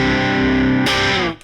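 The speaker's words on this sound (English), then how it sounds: "Compulsive Drive, which is Line 6 OCD emulation, and it sounds like this." Electric guitar played through a Line 6 Compulsive Drive, an emulation of the OCD overdrive pedal, giving a loud, gritty sustained chord that changes abruptly near the end before cutting off.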